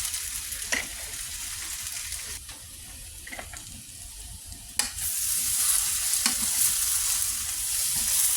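Potatoes searing in butter with onion powder in a pan, a soft steady sizzle under occasional scrapes and clinks of a utensil, fairly faint, without talk.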